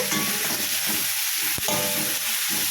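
Ginger garlic paste sizzles and fries steadily in a hot pan for a roadside-style salna, with a constant close crackle and one sharp scrape of a spoon against the metal partway through.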